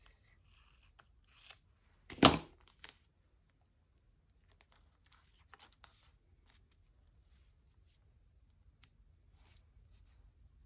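Scissors snip through paper for a junk journal collage, one close crisp burst of cutting followed by quiet small rustles and handling.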